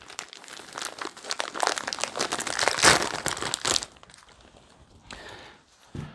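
Plastic packaging around a rifle optic is crinkled and popped open close up. Dense crackling builds for about four seconds, then a few softer rustles follow.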